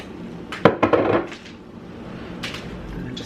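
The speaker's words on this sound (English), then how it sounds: "And just give it a stir." A spoon stirring drained diced tomatoes into seasoned rice in a cooking pot for homemade Rice-A-Roni, giving a few close scraping knocks and clinks against the pot, then fading to quieter shuffling.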